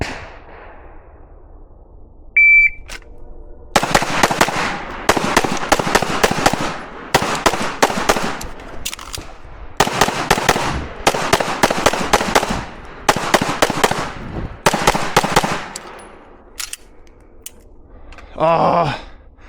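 Handgun fire on a practical shooting range stage, rapid strings of loud, close, sharp shots in bursts separated by brief pauses, starting after a beep, with a few short remarks before and after.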